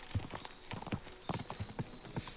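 Horse hooves clip-clopping at a steady walking rhythm in Kingdom Come: Deliverance II, close and crisp with regular paired thuds, no talk.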